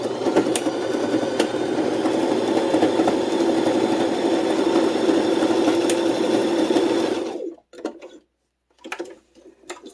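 Sewing machine stitching a toiletry roll, a loud steady rapid mechanical whir with ticking for about seven seconds, then stopping into near silence broken by a few short handling clicks.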